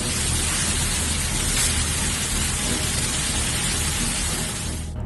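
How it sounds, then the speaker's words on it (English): Hail drumming on a car bonnet during an extreme storm: a dense, loud, continuous hiss of pelting impacts close up, with no voices. "footage of hail falling in his car bonnet"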